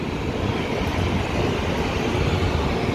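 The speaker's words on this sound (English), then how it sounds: "you hear the train behind me, got real noisy at the moment" An elevated train rumbling past in downtown Chicago near Madison Street, a loud, steady broadband roar filling the street without pause.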